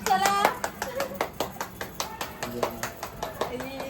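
Hands clap in a steady, even rhythm during a Tulsi Vivah ceremony at home, about a dozen sharp claps close by, with voices talking over them.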